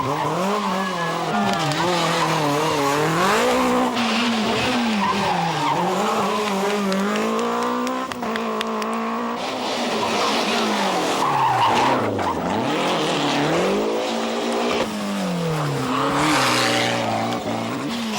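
A rally car sliding off the road after brake trouble, its engine wailing and revving through repeated shifts while tyres skid and squeal, loud and close, with a commentator's voice faintly underneath.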